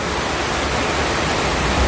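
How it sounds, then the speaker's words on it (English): Flash-flood water rushes steadily through a small creek, a loud, unbroken broadband roar of churning flow heard up close with no other sounds. "I got some footage of this in a little creek"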